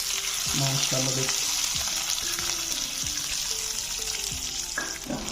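Cumin and chillies tempering in hot oil for a dhaba-style aloo keema, with a steady close sizzle and crackle under occasional spoon stirs and clinks, and a brief spoken comment near the start.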